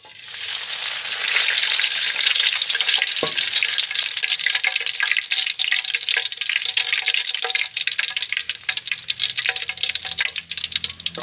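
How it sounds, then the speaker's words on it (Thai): Holy basil leaves frying in a generous amount of hot oil in a pan, a loud continuous sizzle and crackle that swells after a soft start and keeps popping throughout, with a brief clatter partway through. "อ๋อสิ่งแรกทอดอันนี้ก่อนนะเจ้า ใบกะเพราก่อนเนาะ"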